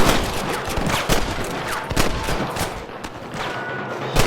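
Rapid gunfire in a shootout with rustler guards in the western game Red Dead Redemption: dense, loud, overlapping shots in quick bursts throughout.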